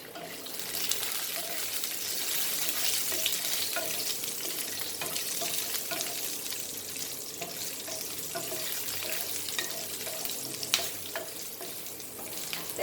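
Garlic and peri peri chillies frying in a pan for aloo shepu, a steady close sizzle and crackle with occasional soft stirring, continuing throughout at moderate level.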